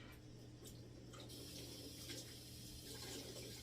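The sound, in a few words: tap water running over hands to cool them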